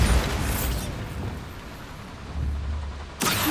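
A Bombarda explosion spell going off in Hogwarts Legacy, a loud booming burst that rumbles and fades over a few seconds before a second sharp blast hits at the end.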